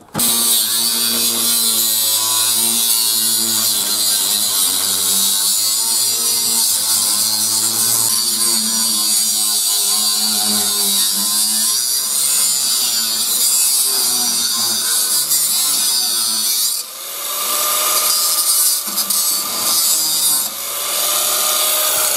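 A power tool grinds continuously through a metal door, loud and close for about twenty seconds, with a harsh rasping edge and a brief dip and shift in tone near the end.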